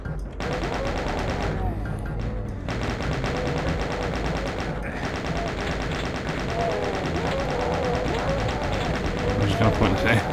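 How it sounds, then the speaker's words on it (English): Super shotgun fire in the DOOM WAD Scythe, a dense stream of gunfire and combat noise running continuously under game music, loud throughout. "I got me a super shotgun."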